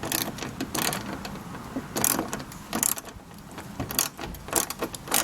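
Ratchet working a 10 mm bolt on the rear bumper cover of a 2010 third-generation Toyota Prius, with rapid clicking bursts repeating in several close, fairly loud passes and no talk.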